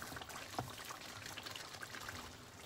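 A little water poured into a pot of cooked meat and rice for biryani, a faint steady trickle and splash close by with no talking.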